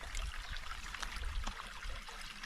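Small rural creek trickling and burbling nearby, a soft continuous babble of shallow water over stones, faint and steady without any voices.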